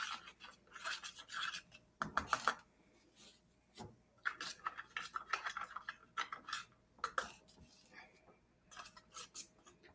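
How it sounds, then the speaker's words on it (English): A plastic spoon stirs egg dye mixed with vinegar in cups, giving light scraping clinks and taps in uneven bursts, close and fairly quiet. "I'm using a plastic spoon, going to stir our dye up with our vinegar a little bit"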